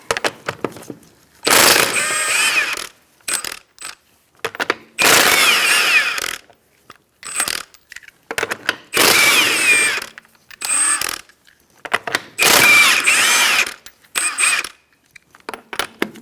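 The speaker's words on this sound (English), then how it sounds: "Using a 21mm socket, we're going to take off our lug nuts." A 21mm socket on a ratchet or power tool loosens lug nuts on a 2004-2009 Mazda 3 wheel, heard as about seven loud, close mechanical bursts of a second or so each, separated by brief silences.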